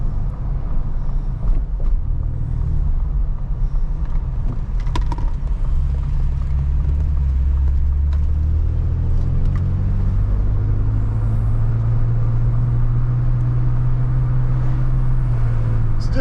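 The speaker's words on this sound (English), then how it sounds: "So just normal driving around the street" A Ford Ranger Raptor fitted with a Turbosmart blow-off valve cruises on a street under normal driving, with a steady low engine and road rumble that swells slightly as the drive goes on and no distinct valve release.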